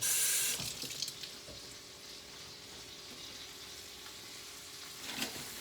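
Tap water runs steadily into a sink as mushrooms are rinsed under it, a close, continuous hiss with a louder gush at the start and small splashes.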